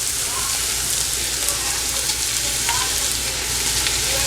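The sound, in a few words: dry chilies frying in a pan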